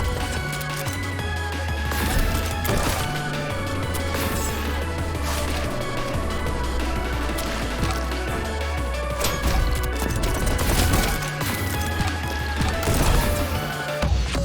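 Rapid gunshots and impacts in the video game Neon White sound over a pounding electronic soundtrack with a heavy bass line. Sharp cracks and smashing hits burst out at irregular moments across the level run.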